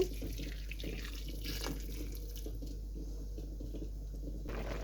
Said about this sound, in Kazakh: осылай үстіне су құйып, сәбізіміз батып тұратындай етіп қойсақ жеткілікті